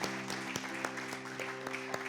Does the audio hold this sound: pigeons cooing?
no